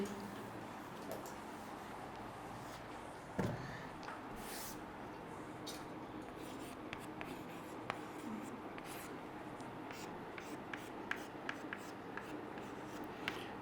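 A pen scratches out a chemistry answer in quiet, faint strokes, with a soft steady hiss of writing punctuated by small ticks and taps close by.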